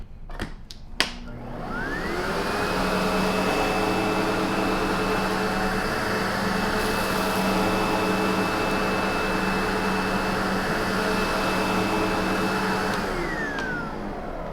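A SEBO G4 commercial upright vacuum switches on after a few clicks and runs a steady, loud motor whine as it cleans sand from carpet, then winds down at the end.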